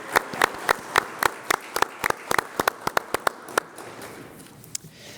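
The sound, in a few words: audience applause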